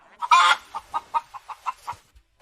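A chicken clucks in a quick run of about eight short, evenly spaced clucks, close and fairly loud after an opening squawk, with no talk over it.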